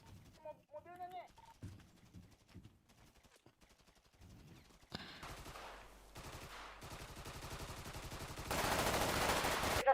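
Gunfire rattles in a roleplay shooting video game, rapid bursts of automatic fire growing louder and denser toward the end, with players talking over it early on.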